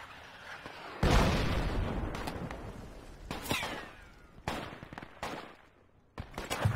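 Mortar rounds and gunfire in the game Project Reality on the Al Basrah map: a heavy blast lands, then several sharp explosive bursts follow at irregular intervals over a low rumbling background.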